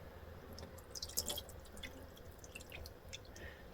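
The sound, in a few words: pouring Caribbean Blue dye into pot of water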